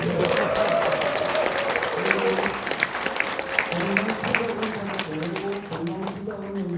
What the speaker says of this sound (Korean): 진짜 박수 한번 보내주세요.